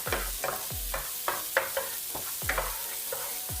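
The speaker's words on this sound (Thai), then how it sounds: "นี่นะครับคั่วหอมๆเลยนะครับ" Fried tofu with coriander root is tossed in a pan for a chili-salt dish. A close, low sizzle runs underneath as a spatula scrapes and knocks against the pan in repeated, fairly regular strokes.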